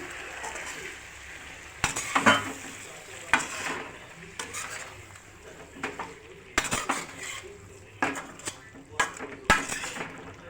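Spoon stirring a home-style chicken fry in a pan, with a soft sizzle underneath and sharp clinks of utensil on metal at irregular intervals, close and moderately loud.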